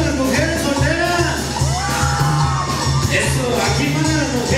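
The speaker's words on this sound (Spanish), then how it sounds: "ese grito de las mujeres solteras" A crowd of unmarried women at a dance in Tlapa de Comonfort, Guerrero, shouts and whoops loudly together, rising and falling in excited cries over a steady thumping music beat.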